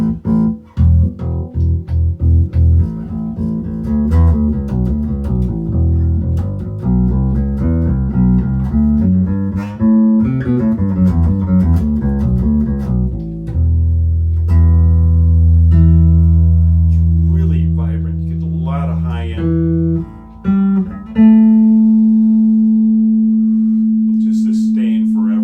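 A 1964 Gibson Thunderbird II bass guitar played solo, with runs of plucked notes, sustained low tones and slides, loud and close, with no talking.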